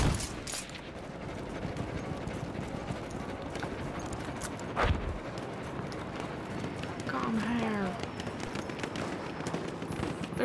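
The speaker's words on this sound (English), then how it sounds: "There's another horse out there." Galloping horse hoofbeats patter under a busy Battlefield 1 game soundscape, with a heavy thud and scattered bangs in the background.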